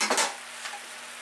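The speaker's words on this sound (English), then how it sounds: "now let's add our 3 to 4 cloves of minced garlic" Minced garlic hits a hot pan for wild mushroom risotto, with a couple of quick stirring scrapes up front and then a soft, steady sizzle, close and brief.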